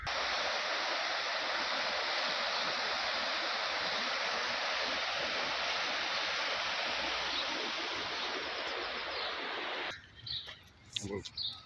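River rushing past a park in Llanidloes, Wales, near the source of the River Severn, a loud steady wash of flowing water that fills the scene before dropping away near the end to quieter, uneven sounds.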